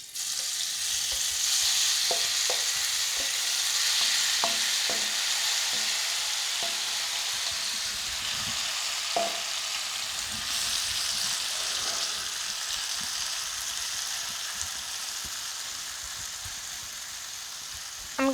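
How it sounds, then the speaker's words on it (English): Shrimp fry in four tablespoons of oil preheated over high heat, giving a steady loud sizzle throughout with occasional soft clinks and scrapes of stirring. "We're going to cook the shrimp. I preheated 4 tablespoon oil over high heat."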